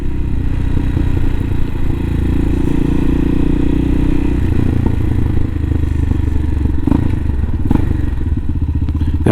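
A 2020 CSC TT-250 motorcycle ridden through Fortuna, California, its steady loud engine drone running continuously with occasional thumps and clatter from the road.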